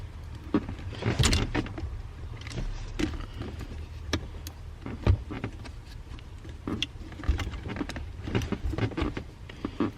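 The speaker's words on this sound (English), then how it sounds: "I'm not gonna break the wire, just gonna break the zip tie." Several sharp snaps and clicks come from breaking zip ties that hold a car seat wire during a seat removal, mixed with rattling and handling noises at close range.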